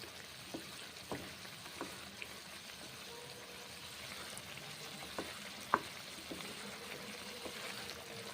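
A green peas curry (motorshutir dom) is stirred and fried in a pan with a quiet, constant sizzle and occasional light clicks of the spoon against the pan.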